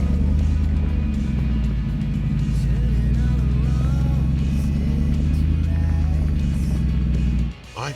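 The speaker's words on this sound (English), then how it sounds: "Let's listen to Johan Swift's Jeep roaring V8 as he drives up the cross axles" A deep Jeep V8 engine roars steadily nearby for several seconds while climbing cross axles off-road at night, low and throaty, then cuts off abruptly near the end.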